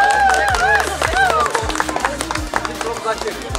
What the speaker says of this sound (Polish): Wielkie brawa jeszcze raz dla Martyny.